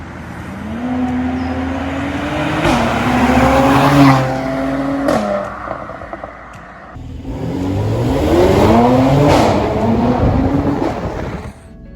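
A Mercedes C43 AMG engine revs up and down in rising and falling surges, a loud, throaty exhaust note with a brief dip in the middle.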